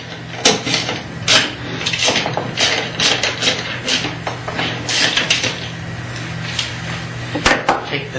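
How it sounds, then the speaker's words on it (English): A 9/16 inch ratchet backs the nuts off carriage bolts on a Shopsmith SS112 belt sander, giving close, rapid clicking bursts in uneven runs with occasional metallic knocks. "Take the nuts off the carriage bolts with the ratchet."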